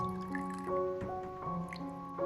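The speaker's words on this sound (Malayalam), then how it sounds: "ആദ്യം ഗ്ലാസ്സിലേക്ക് 1/4 കപ്പ് കട്ടൻ ചായ ഒഴിക്കാം" Black tea is poured into a glass for Irani chai, a close liquid stream with dripping splashes and a rising ringing tone as the glass fills, with no one talking.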